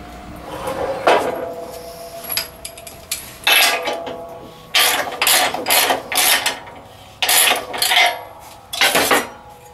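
A homemade finger brake bends thin sheet metal in a workshop, giving a series of close metallic clanks, creaks and rattles in irregular bursts, with short pauses between them and no talking.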